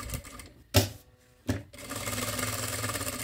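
A sewing machine stitches a small phone bag with a card pocket, giving two sharp knocks followed by a steady, fast mechanical whirr as the stitching runs, close by and with no speech.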